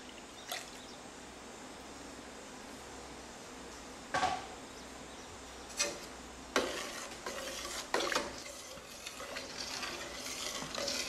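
Half and half being stirred into a roasted pumpkin ginger soup in a pot, soft quiet liquid swirling with a few distinct scrapes and clinks of a spoon against the pan.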